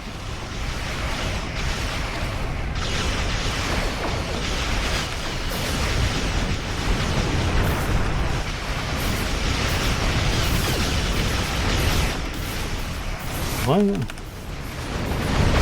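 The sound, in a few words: torpedo spread explosions in Star Trek Online video game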